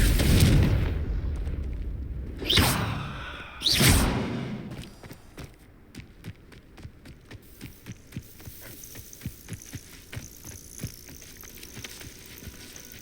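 Confringo blasting spell in Hogwarts Legacy: two loud booming blasts with whooshing swells early on, then a fading rumble with scattered crackling debris and small ticks trailing off.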